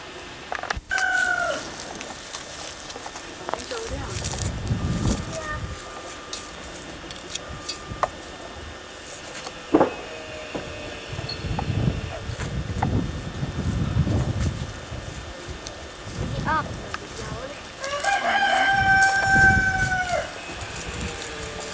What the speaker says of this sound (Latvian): Kur jūs mazās vistiņas?